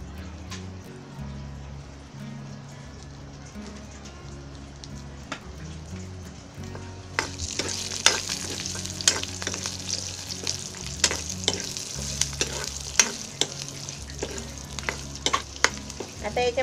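Garlic and ginger sizzling in a pan with onion and fried coconut pieces, a quiet crackle that grows louder and busier partway through, with sharp spoon scrapes and clinks as the mixture is stirred.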